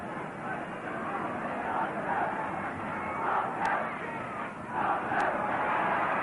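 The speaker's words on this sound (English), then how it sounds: "That little movement got the crowd buzzing." Football crowd at a 1967 Charity Shield match between Manchester United and Tottenham on a very wet pitch, a dense, steady roar of massed voices that swells slightly in waves throughout.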